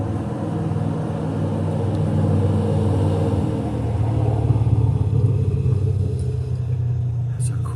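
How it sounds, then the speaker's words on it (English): A noisy Corvette sports car passes outdoors, its loud engine rumble swelling and then fading over several seconds, sounding rough and unhealthy. "Corvette going by."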